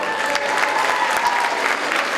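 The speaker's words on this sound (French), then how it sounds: "Bravo les filles, vous avez gagné un merveilleux trophée, on vous applaudit très fort." Continuous crowd applause at a sports awards ceremony honouring a winning girls' team, bright and dense with no pauses, filling the short stretch without any talk.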